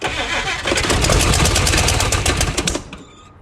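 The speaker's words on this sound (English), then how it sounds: "it's starting to turn over" A 1956 Chrysler Windsor with a 65-year-old engine cranks loudly and steadily for almost three seconds, the starter churning rhythmically without catching before it cuts off into quiet.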